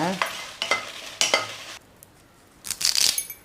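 Dry red chillies roast in a pan for a moringa leaf podi, stirred in several scraping strokes with light metallic clinks and faint crackling, close up.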